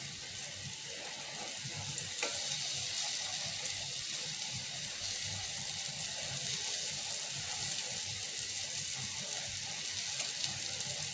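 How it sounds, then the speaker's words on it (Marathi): Breadfruit slices sauté in a pan with a steady, moderately loud sizzle that runs unbroken throughout, with a few faint clinks near the start. "कापं आता परतून घेऊयात."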